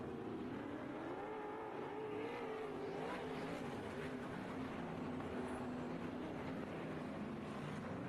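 Wingless sprint cars race around a dirt speedway, a distant, continuous engine roar with rising and falling revs that is heard through wind and ambient crowd noise.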